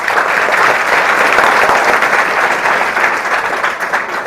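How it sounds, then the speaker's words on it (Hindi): A large audience at a children's development competition claps together in loud, dense, sustained applause that stays steady throughout with no voices over it. "चलिए हमारे साथ ताली बजाएं"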